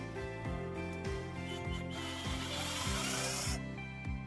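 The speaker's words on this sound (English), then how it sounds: "now I'm going to use this drill." A power drill drives screws into a wood panel while a TV mount is fixed in place, giving a steady motor whine with rhythmic pulsing and a rising, brighter burst near the end before it stops.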